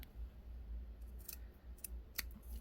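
Scissors snip through fusible-interfaced fabric backed with a double-sided adhesive sheet, cutting out a naturally dyed fabric needle case; a few quiet, crisp cuts spaced apart over a low steady background.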